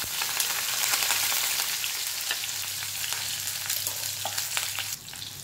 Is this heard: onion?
yes